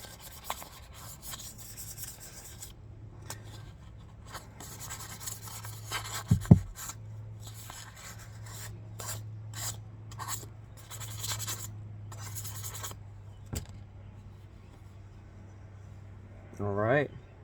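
An axe is sharpened by hand with quiet, repeated rasping and rubbing strokes over a low steady hum, with an occasional knock.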